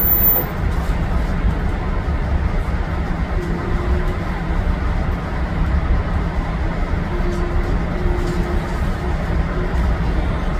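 A passenger train rolls into Michigan City's 11th Street station with a steady, loud low rumble and rail noise, brief faint squeals riding over the continuous din, no voices.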